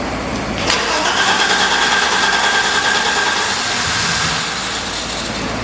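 Small MTD engine cranking repeatedly without catching, a loud, steady churning drone after a sharp start that runs on without firing up.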